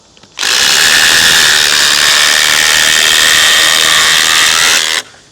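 A Milwaukee impact driver sinks a screw into lumber in one loud, continuous hammering burst lasting nearly five seconds, starting and stopping abruptly, with no talk.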